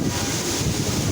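Strong gusting wind buffets the microphone along Riverwalk in Miami, a loud, steady broadband roar with no pause through the short stretch.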